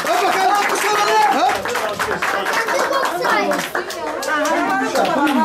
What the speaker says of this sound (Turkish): Hay alkış bakalım